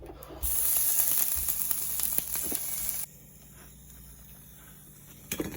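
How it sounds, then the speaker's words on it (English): Waffle batter sizzling in a hot waffle iron, a loud bright hiss for a few seconds that drops off abruptly to a faint quieter crackle, close up, with a brief click near the end. "You can hear it sizzling in there"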